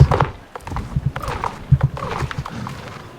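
Horse hooves in a video game: a short burst of uneven clip-clop footfalls at close range, mixed with scattered game sounds and no speech.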